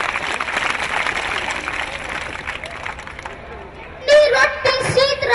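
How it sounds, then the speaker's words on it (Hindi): A village audience in Hirmathla, Mewat, Haryana bursts into a dense wash of clapping for about three seconds before a voice starts speaking loudly over the fading crowd. "जोरदार तालियां इसके लिए।"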